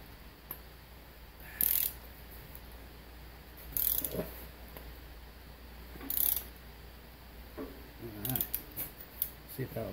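A cup extractor tool wrenches a Loctited injector cup from a 7.3 diesel head, giving four sharp ratcheting bursts spaced about two seconds apart over a quiet shop background, then a run of smaller clicks and scrapes near the end.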